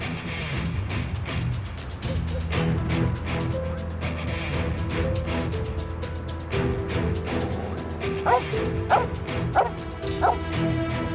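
A dog barks repeatedly in rapid bursts, loud and fairly near, with louder yelps toward the end, set against a low, sustained musical backdrop.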